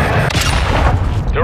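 A cruise missile strike in Call of Duty: Modern Warfare 2 detonates as a loud, sustained blast with crackling gunfire-like bursts throughout, and a voice speaks over the din.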